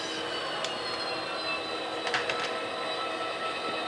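Union Pacific railroad locomotives and cars working a rail yard during switching, heard as a steady broad rumble with metallic wheel squeals and clanks rising briefly midway, fairly distant and continuous.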